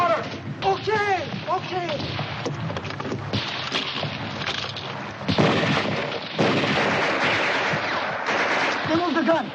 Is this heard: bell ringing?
no